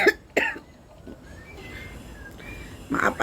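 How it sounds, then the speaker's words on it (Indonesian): A person coughs several times in short, close bursts, with a pause between coughs and a faint background hum. "Maaf ada iklan batuk."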